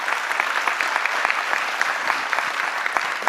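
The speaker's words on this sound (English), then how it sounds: "Yes, a round of applause." An audience at a town hall meeting applauds steadily, a dense, even wash of clapping from many hands that fills the room without a break.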